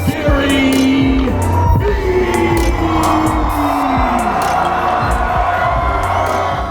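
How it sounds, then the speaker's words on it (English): Audience cheering, whooping and applauding for Garyvee at a live talk event, a loud dense crowd roar with shouts rising over it, sustained throughout and close. "a round of applause for Garyvee"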